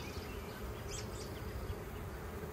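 Honey bees carrying pollen baskets swarm in an opened hive, producing a dense, continuous close buzz that stays steady throughout with no voices.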